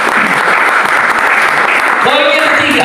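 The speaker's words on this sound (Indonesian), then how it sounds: "Tepuk tangan buat Tuhan kita." A church congregation claps for God during a worship service, dense steady applause filling the room, with a voice and sustained musical tones rising near the end.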